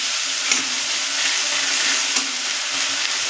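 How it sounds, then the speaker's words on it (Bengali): Diced potatoes and vegetables fry in a pan over a raised gas flame, a continuous bright sizzle with a few soft stirring scrapes, close and steady, no talking. "ভাজা ভাজা করে নেব।"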